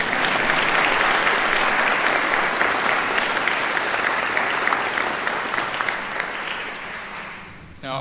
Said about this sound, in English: Let's applaud him anyway.